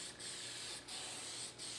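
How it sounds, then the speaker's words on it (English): True Strip aerosol cleaner sprayed in steady hissing bursts to saturate a gun part before a DuraCoat camo finish, three sustained sprays with brief gaps, close and fairly quiet. "Get it good and saturated with this aerosol."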